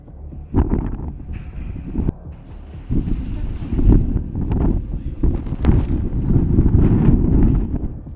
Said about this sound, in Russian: принеся с собой ураганный ветер, порывы которого достигали 39 метров в секунду